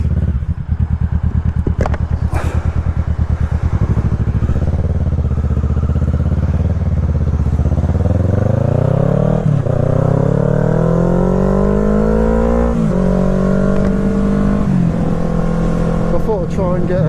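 A motorcycle rides along a road, its engine note rising through the gears with steady rumble and gear-change dips, loud and close throughout, with wind noise.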